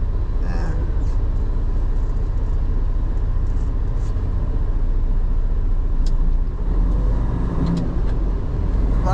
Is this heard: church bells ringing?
no